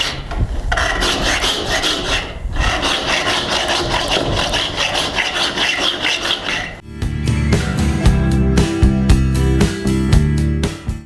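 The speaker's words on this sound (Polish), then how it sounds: "To jest wroczek 600, 500, więc łatwo się szlifuje." A window opening is sanded by hand while preparing it for a warm window installation in a house. Loud, close abrasive rubbing strokes continue throughout and turn into faster, rhythmic back-and-forth scraping in the second half.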